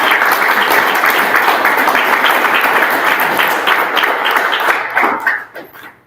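A meeting audience applauds loudly in a dense, sustained burst of clapping that fades out over the last second.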